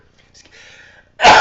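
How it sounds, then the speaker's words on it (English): A single sharp sneeze bursts out loud and close at the end, after a second of faint breathy throat sounds and quiet murmuring. "I'm about to sneeze"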